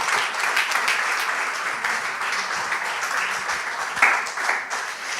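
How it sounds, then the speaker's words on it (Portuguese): A church congregation applauds steadily throughout, a dense wash of clapping with a brief louder burst near the end and no talk over it. "Damos um aplauso para Jesus."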